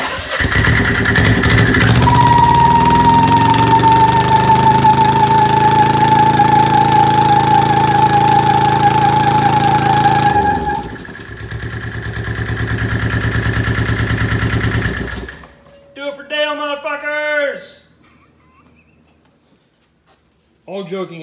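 Yanmar diesel engine in a golf cart running loudly, its pitch holding steady then dropping before it cuts off, leaving quieter knocks and a voice speaking near the end.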